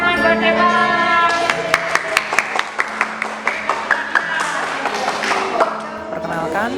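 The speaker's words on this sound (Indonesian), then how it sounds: "Oke, tepuk tangan buat Dewa" Audience at a student cooperative event clapping, sharp hand claps rising among a musical backing while a voice talks over it.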